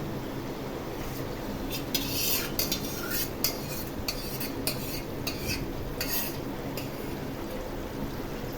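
A cauliflower and pea mash is stirred into pav bhaji masala in a pan, making repeated scraping and rubbing strokes of a spoon against metal over a soft background hiss.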